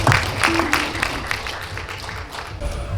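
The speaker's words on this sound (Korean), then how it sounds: "여러분 큰 박수로 맞이해 주시면 고맙겠습니다." Audience at a literary award ceremony clapping to welcome a speaker, a moderate burst of many hands that thins out over a few seconds.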